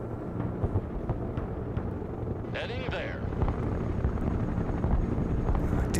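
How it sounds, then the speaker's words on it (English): Military helicopters fly in the real-time strategy game Broken Arrow, a steady rotor and engine rumble that holds throughout, with a brief higher whine rising midway. "Helicopters will be on station shortly."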